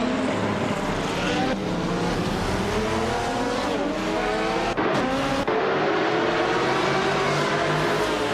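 Race cars launch off the line at Fuji Speedway Short in a racing video game, a loud, dense pack of roaring engines revving and shifting up together, with a brief dip before the roar swells again.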